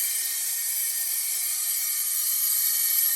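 Steady, loud high-pitched hiss from a vacuum pump pulling vacuum on the A/C system of a 1997 Toyota 4Runner, running continuously and alone with no talk over it.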